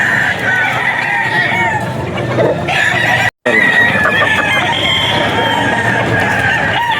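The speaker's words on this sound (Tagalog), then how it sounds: "Ito yung mga malulupit na manok ni SBR boss?" Several gamecock roosters, Spartan Blacks at an auction market, crow loudly and continuously, overlapping one another, with clucking and farmyard noise throughout and a brief cut partway through.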